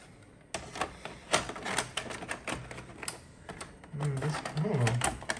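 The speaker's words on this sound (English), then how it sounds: "So I'm gonna go ahead and load in a tape." A VHS tape is pushed into a Funai ZV427FX4A DVD/VCR combo recorder, making a series of close mechanical clicks and clatters as the deck takes it in, with a voice briefly heard near the end.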